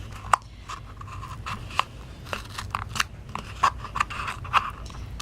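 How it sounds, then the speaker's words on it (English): Scissors snip a hole in a homemade small-pet toy, making a series of sharp, close crunchy cuts at an irregular pace with faint handling noise between them. "take my scissors and cut a little hole"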